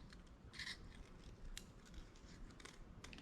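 Scissors cut a shape from folded aluminum sheet to make a calligraphy pen, giving faint, close metallic snips and crisp clicks at irregular intervals over low background noise.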